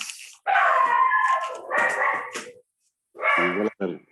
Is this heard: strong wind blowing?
no